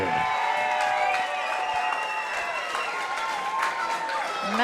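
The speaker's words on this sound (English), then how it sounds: "Massive crowd here for James Honey as well." A large crowd at a fight event roars and claps continuously for a fighter, a dense wash of cheering and applause with shouts rising above it.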